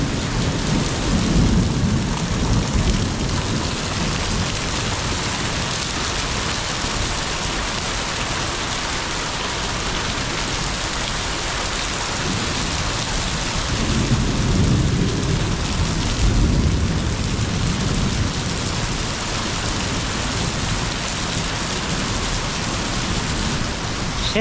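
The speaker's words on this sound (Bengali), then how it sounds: "সেই লেভেলে প্রচুর বৃষ্টি হচ্ছে।" Heavy rain pours down in a thunderstorm around a two-storey house, a dense steady roar of drops on surfaces with deep thunder rumbling through, loud and continuous with no voices.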